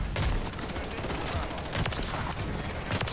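Sniper rifle fire in a video game heard as a dense, steady wash of loud gunfire with sharp cracks standing out now and then. Voices run faintly underneath.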